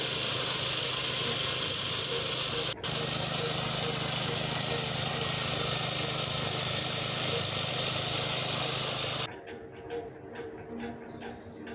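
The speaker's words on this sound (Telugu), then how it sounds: "నీట్గా టిల్లర్ అయితే బాగా దున్నేస్తుంది కదా." A power tiller engine ploughs a field, its loud, close, steady drone running continuously before cutting out near the end, leaving quieter ticking sounds.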